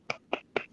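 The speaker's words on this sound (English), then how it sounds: "I'm doing my clap for you." Three sharp hand claps in a quick, slightly uneven rhythm, close and crisp, with short gaps between them and no talking.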